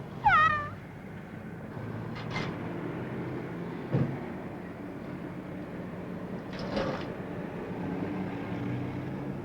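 A cat meows once clearly near the start, followed by a few fainter meows over a low background hum.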